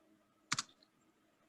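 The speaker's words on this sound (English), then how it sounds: "was typing into the chat" A brief cluster of quick keyboard clicks on a computer keyboard while typing into a chat, faint and alone in a quiet room.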